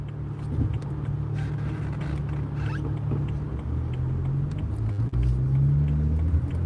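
A BMW 335i with the N54 engine idles steadily after a water pump replacement, a close, continuous low rumble with no talk.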